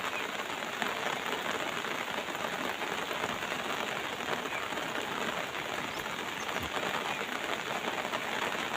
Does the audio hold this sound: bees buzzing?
no